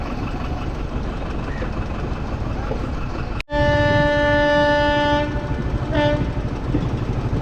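A train rolls past a railway level crossing in Guwahati, a sustained loud rumble with a bright horn-like tonal whine over steady background noise, lasting several seconds and fading toward the end.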